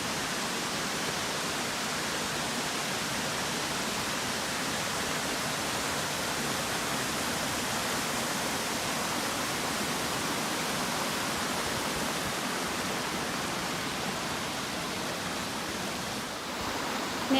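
Arethusa Falls, a tall waterfall in New Hampshire, roars with a dense, steady rush of falling water that stays loud and unbroken throughout, with no voices.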